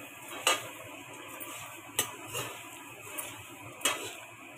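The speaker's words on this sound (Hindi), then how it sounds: "अब इसमें डालना है मुरमुरा और इसमें नमक, वो अच्छे से भून लेते हैं" Puffed rice (murmura) with salt gets roasted and stirred in a pan, the spoon knocking the pan in a few sharp, separate clacks. Light rustling and scraping sit between the hits at a moderate, close distance.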